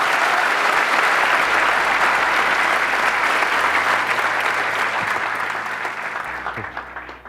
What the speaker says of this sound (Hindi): ताली किस लिए बजाई है?